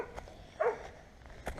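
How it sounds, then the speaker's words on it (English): Dog barking outdoors beside a small park, two short, fairly faint barks at some distance, separated by about a second over quiet background noise. "Oh crap, it's a dog."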